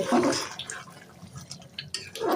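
Liquid is poured into a cooking pot of beef curry, a close splashing and trickling with a few soft drips and gurgles, quiet and without talk.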